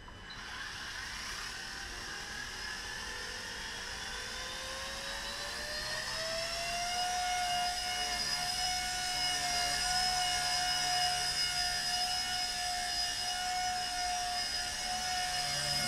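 A Blade Nano CP X brushless RC helicopter with KBDD main blades spools up at 75% throttle, a steady high-pitched rotor and motor whine that rises in pitch and then holds level, close and unbroken with no talk.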